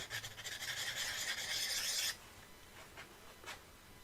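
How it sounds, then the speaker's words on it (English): A file rasps against a shear scraper's steel edge up close for about two seconds to sharpen it and remove the burr, followed by a few faint, brief scrapes. "I'm going to add a burr to it. I'm just going to sharpen it, get rid of the burr."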